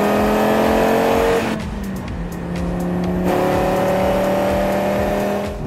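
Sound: 2018 Audi RS 3 driving on Lime Rock race track

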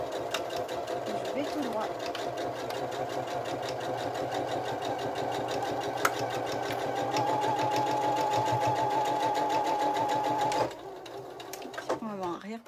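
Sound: sewing machine stitching a Christmas stocking seam

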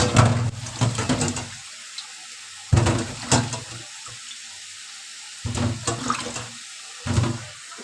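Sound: fish being washed under running tap water

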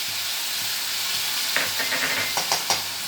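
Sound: spice paste frying in a wok (kadai)

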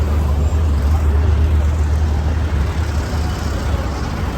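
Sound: Delhi road traffic

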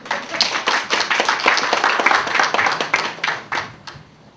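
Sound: audience applause for the museum director

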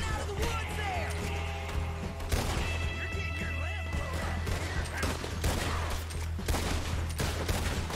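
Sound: gunfire in the video game Red Dead Redemption II

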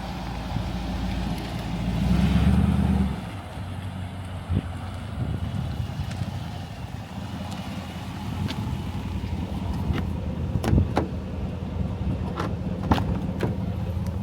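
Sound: Dodge Durango car driving up and arriving

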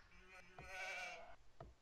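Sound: sheep bleating in Age of Empires 2 video game

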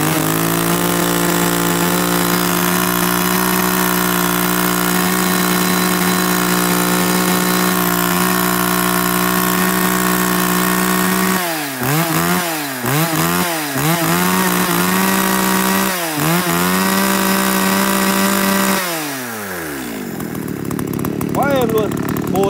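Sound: Echo Green K5 chainsaw engine running

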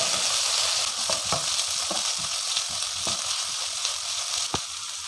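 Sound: sautéing ginger, garlic, green chillies and curry leaves in a pan

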